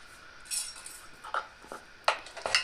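Metal clinks and clanks as a pressure cooker is picked up and handled in a home kitchen, a few sharp close knocks scattered over a quiet background.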